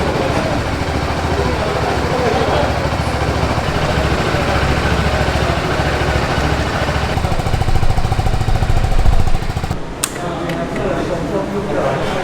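A BMW 310 GS single-cylinder motorcycle engine idles steadily with a dense, even chug, close and loud for about ten seconds before a sharp knock and a slightly lower continuing rumble.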